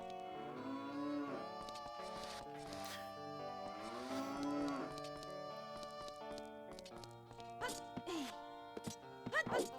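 Cow mooing in the video game Zelda: Ocarina of Time randomizer, several long drawn-out moos with rising and falling pitch, loud and close, with a person talking over and between them.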